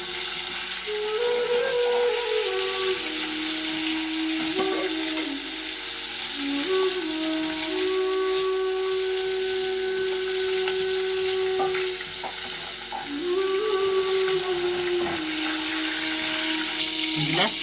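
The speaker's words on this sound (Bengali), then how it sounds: "হালকা ভাজবো মাছটা" Rui fish frying lightly in hot oil in a pan, a steady hissing sizzle running throughout, with occasional scrapes and clinks of a utensil stirring, plus a faint wavering background tone under the frying.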